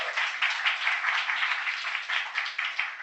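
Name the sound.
applause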